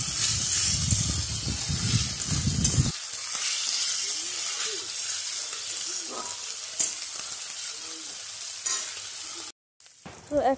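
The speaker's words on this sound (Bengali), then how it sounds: "পেঁয়াজটা ভালোভাবে একটু ভেজে নিয়ে তাহলে পেঁয়াজের কাঁটা গন্ধটা চলে যাবে" Onions frying in a pan for a spicy fish curry, a steady loud sizzle with stirring that drops suddenly after a few seconds to a quieter, crackling hiss.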